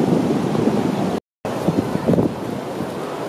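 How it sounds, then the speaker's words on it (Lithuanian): Ocean surf washes in at Seal Beach, Los Angeles, as the tide rises, a steady loud rush of waves mixed with wind buffeting the microphone, broken by one brief cut-out. "matosi, kaip jūra grįžta"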